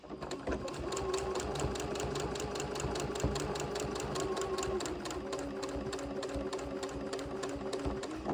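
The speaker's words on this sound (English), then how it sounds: "I'm going to sew a few stitches and then switch to a time-lapse recording for this." A Janome sewing machine stitching a sundress runs close by with a steady, rapid mechanical chatter, briefly changing tone about midway, then carrying on at the same even pace.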